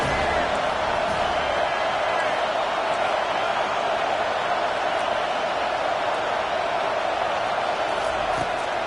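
A college football stadium crowd roars steadily behind the defense on a big third down, a dense unbroken wash of noise under continuous commentator talk.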